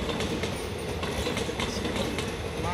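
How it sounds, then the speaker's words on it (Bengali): A second-class train passes, heard from a rooftop: a loud, steady rumble and rattle of rail cars with faint clickety-clack and occasional wheel squeal throughout. "এই প্রথমবার আমরা ছাদ থেকে ট্রেন যাওয়া যাচ্ছে"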